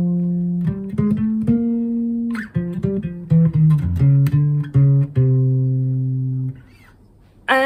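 A bass plays a tune with a swing feel: clear, separate plucked notes in a loping rhythm, close and alone, with a short quiet stretch near the end.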